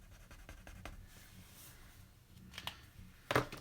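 An ink pen being scribbled back and forth over paper to color a dark area, making faint close scratchy strokes with a couple of louder taps near the end.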